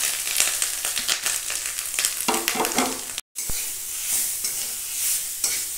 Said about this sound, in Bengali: এইভাবে নেড়ে চেড়ে নারকেলটা একটু ভেজে নেব।